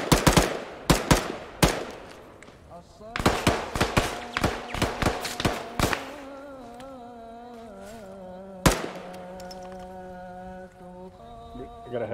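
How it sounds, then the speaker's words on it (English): Heavy machine gun fire in a video game about clearing insurgents from a town, loud rapid bursts in several volleys, then a lone shot amid quieter game ambience. "I got a heavy machine gun over by me."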